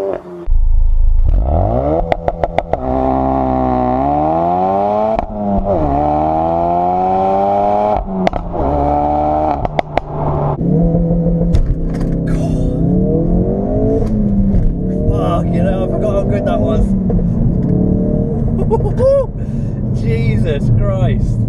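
A Ford Focus RS launches under launch control, loud and close: the engine holds high revs, then pulls hard through rising gear sweeps with brief breaks at the shifts, and a voice speaks over it at times.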